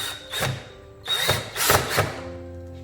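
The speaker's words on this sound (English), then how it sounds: "I have to drill a couple of holes for these hooks" Several short bursts of a power drill whirring up and stopping while drilling holes for shepherd hooks in a garden, close by, with quiet pauses between them.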